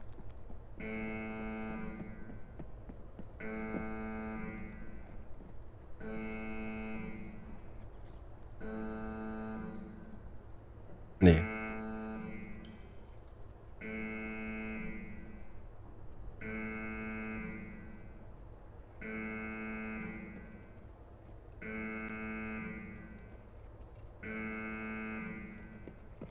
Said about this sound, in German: Dieser blöde Alarm.